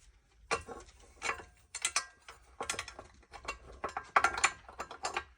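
A ratchet wrench clicks in quick, close bursts while tightening the nut and washer on a motorcycle foot peg bolt, with several short rounds of ratcheting separated by brief pauses.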